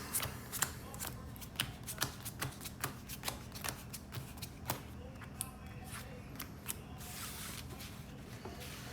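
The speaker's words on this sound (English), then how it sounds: "I'm going to go ahead and power shuffle again." A Yu-Gi-Oh deck built around Blue-Eyes White Dragon being power shuffled by hand, a quick, close run of crisp card slaps and riffles repeating in an uneven rhythm.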